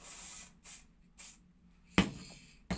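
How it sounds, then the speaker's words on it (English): Short bursts of hissing aerosol spray repeat several times, each a few tenths of a second, followed by two sharper bursts, close and fairly quiet. "just a can of spray for me"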